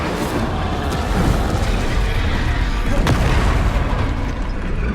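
Confringo blasting curse explosions in Hogwarts Legacy, a steady run of dense booming blasts with a sharp crack near the middle, layered over continuous game noise and a shouting voice.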